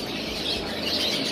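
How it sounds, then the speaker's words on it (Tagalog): Many birds, including pigeons, chirp and call at once at a bird market in a dense, noisy chatter, a busy continuous din with cooing mixed in, close and fairly loud. "Ang ingay ng mga ibon dito kasi"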